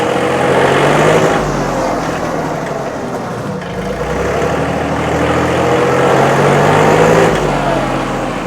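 A 2022 John Deere 3033R compact tractor with a loader, belly mower and hydrostatic 4x4 drive runs in B range, its engine droning loud and steady close by with slight swells, and no talk.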